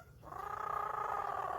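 A parrot imitates a cat, giving a steady, tonal, purring meow that swells in after a brief quiet start and holds loud and close to the end.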